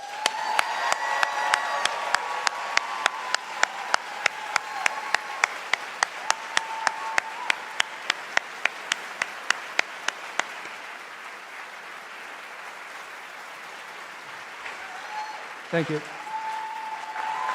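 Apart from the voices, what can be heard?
round of applause for law school graduating class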